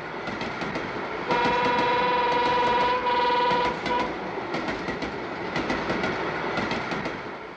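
A train rolls past on the railway in open countryside, a loud steady rumble with rhythmic clickety-clack of wheels on rail joints and a sustained horn-like tone for a few seconds, with no talking.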